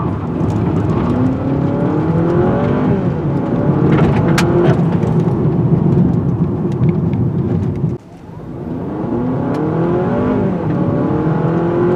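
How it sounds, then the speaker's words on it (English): A 2023 Honda Accord Hybrid Sport L accelerates on a test drive, its steady rising whir and road roar filling the cabin, with a brief dip partway through before the hum builds again. "We've got decent acceleration."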